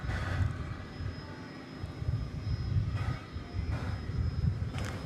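A fixed-wing aircraft approaches the runway at DFW Airport, its engine roar a steady, moderately distant rumble that swells and eases over several seconds, with a thin constant whine above it.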